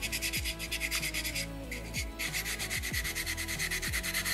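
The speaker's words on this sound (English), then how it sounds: "I'm just gonna fold my sandpaper a couple times, maybe two or three times. Tuck it right into those hard to reach areas." Folded sandpaper rubbing into the tight nooks of a soapstone beaver carving, making rapid rhythmic scratchy strokes that continue with only a brief pause, alongside soft background music.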